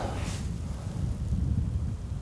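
Cold, humid wind buffets the microphone outdoors during winter spinning fishing. It makes a steady, low, blustery rumble with no pauses.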